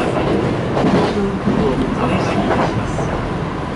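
A Kintetsu local commuter train runs on its rails, with a steady, loud rumble and rhythmic wheel clatter filling the whole stretch, a few faint voices mixed in beneath the running noise.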